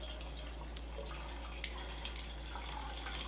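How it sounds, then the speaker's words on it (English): Cold tap water running into a three-glass thermos container, a faint steady splashing trickle with tiny drip-like ticks over a low constant hum, no voices. "Okay, we got enough water in there. Let's turn it off."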